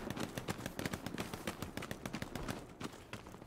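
Dense, rapid gunfire crackles through a Hell Let Loose night battle at Foy, rifle and machine-gun shots overlapping in a steady barrage, some close and sharp, others more distant.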